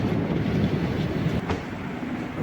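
A passenger train rolls steadily between Thiruvananthapuram and Kollam, with a continuous loud rumble and rhythmic wheel clatter heard from close by.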